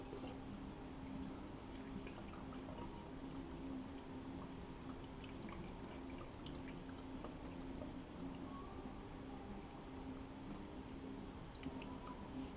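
Water trickles steadily as it is poured a little at a time into a PC water-cooling loop during a 2015 system build, a low continuous liquid wash with faint drips throughout.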